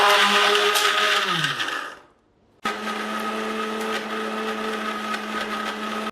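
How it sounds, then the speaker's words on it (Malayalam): A kitchen mixer grinder blends chopped kokum with water for sharbat. Its loud whirring motor spins down to silence, then starts again and runs at a steady, even whine. "അത് നമ്മൾ ബ്ലെൻഡറിലോ മിക്സിയിലോ എവിടെയെങ്കിലും ഇട്ടിട്ട് ഇതിനെ ഒന്ന് ചെറുതായിട്ടൊന്ന് അരച്ചെടുക്കണം"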